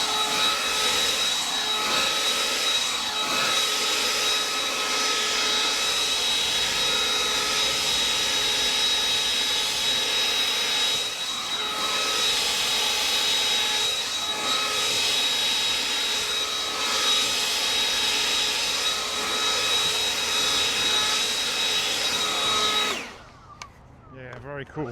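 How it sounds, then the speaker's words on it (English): A Greenworks 82V cordless handheld leaf blower runs at a loud, steady high-pitched whine and rushing air, held close for over twenty seconds before cutting off abruptly near the end. "This blower's got some serious oomph"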